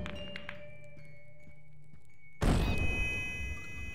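A flashbang goes off in the Kill It With Fire game, one sudden loud bang with a sharp ringing burst that decays slowly, after a quiet stretch with faint clicks and a steady tone.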